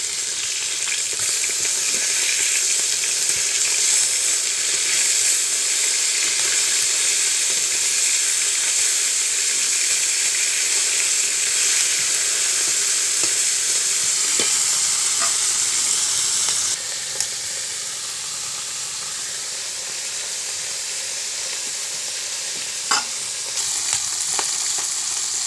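Prawns (chingri) sizzle and fry in a hot pan while being stirred, a loud continuous hiss with occasional scraping clicks, steady throughout and without talk.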